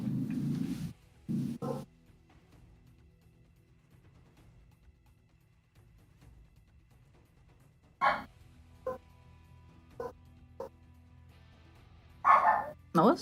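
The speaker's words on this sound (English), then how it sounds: "Why do I hear barking?" A dog barks in a video game: a few short, sharp bursts near the start, then a long quiet stretch before more scattered barks and yips toward the end.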